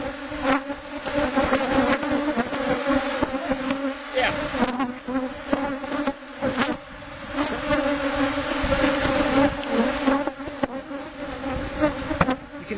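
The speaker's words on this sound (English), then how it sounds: "You can see there are quite a few bees flying" Honey bees fly around an open hive during an inspection, giving a dense, continuous buzzing drone with individual bees passing close by. Scattered handling knocks sound under it.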